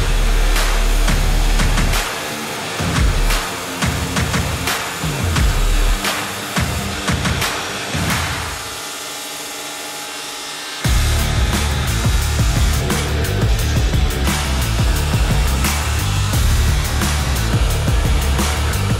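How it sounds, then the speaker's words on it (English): Grinder working a steel knife blade after heat treating, loud close motor roar with bursts of rasping grinding as the blade is pressed and lifted, a short quieter gap midway, then steady grinding resumes, no talking. "To the grinder."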